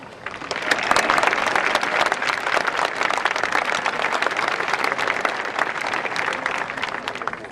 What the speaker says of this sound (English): I would just like to give the teachers a round of applause right now